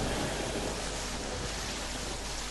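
Rain in the game Terraria, a steady hissing wash of rainfall with no breaks, even and moderately loud from start to finish.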